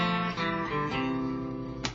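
Guitar strumming the chord part of a song at full speed, with quick successive chord changes ringing together in a short, steady burst and a final sharp strum.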